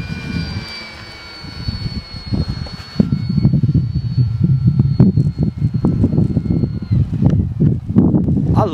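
A Durafly F4U Corsair RC model warbird flies overhead, performing a barrel roll: a steady electric motor whine rises and falls as it passes, with gusty wind noise on the microphone throughout.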